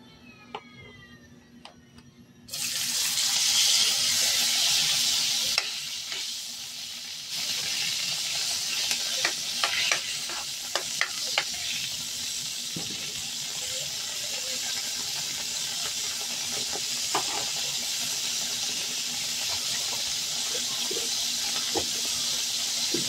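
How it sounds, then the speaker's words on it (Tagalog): Shrimp and garlic sizzle in hot margarine with a shrimp paste base, a sudden loud hiss bursting in and settling into a steady close frying crackle with occasional pops. "Atong igisa sa margarine."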